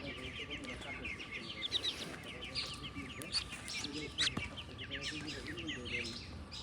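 Small ducklings on a farm peeping in a dense, continuous chorus of high chirps, close and busy, over a rough background of shuffling and handling noise.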